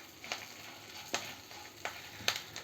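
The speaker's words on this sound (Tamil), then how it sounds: "இது எல்லாத்தையும் நல்லா வதக்கிக்கலாம்." Cumin, chillies, tamarind and curry leaves sauté in sesame oil in a pan for a thuvaiyal, giving a steady soft sizzle broken by four sharp stirring scrapes at fairly even intervals.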